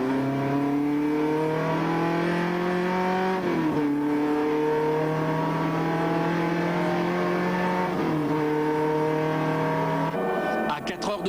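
An endurance race car engine drones loudly and steadily during a 1996 race, its pitch climbing and dropping a few times, with a short rattling burst near the end.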